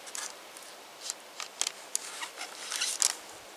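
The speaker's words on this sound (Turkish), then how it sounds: "Burada tamamıyla kesiyorum." A knife slicing through salmon flesh, a string of soft, close crisp cutting strokes at irregular intervals, quiet and with no voices.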